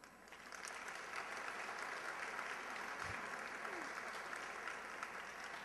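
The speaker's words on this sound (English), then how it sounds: "And thank you all for clapping like this." An award ceremony crowd claps continuously in a large room, a broad wash of applause heard faintly from a distance that swells at the start and holds steady throughout, with no speech on top.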